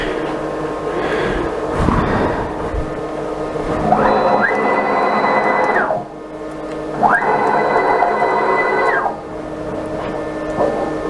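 A 6040 CNC router jogs its axes toward a corner of the workpiece, with two separate bursts of rising, steady stepper-motor whine, each lasting about two seconds, separated by a short lull and a low background hum.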